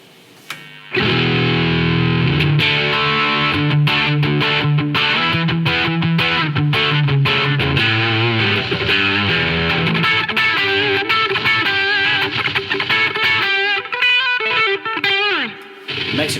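Electric guitar played through a ZVex Distortron overdrive pedal with a heavily overdriven, distorted tone, chugging chords and riffs followed by faster runs, loud and close with no talking.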